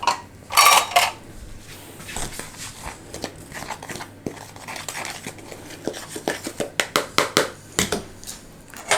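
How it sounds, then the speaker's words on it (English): Baking soda and self-rising flour being mixed in a bowl for Chinese prosperity cakes, heard as close, irregular scraping and clinking of a utensil against the bowl that quickens into rapid knocks toward the end, with no talking. "give it a good mix"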